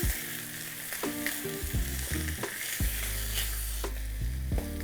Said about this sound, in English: this is where you can start frying the meat